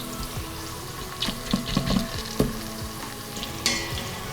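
Onion and garlic frying in lard in a pot, a steady close sizzle broken by spoon scrapes and stirring knocks, with no one speaking.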